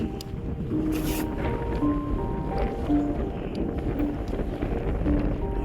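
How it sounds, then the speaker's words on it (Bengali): Strong wind on the Everest base camp trek between Dingboche and Dughla in Nepal buffets the microphone in a constant low roar with gusty swells, loud and unbroken throughout. "প্রচুর হাওয়া এখানে"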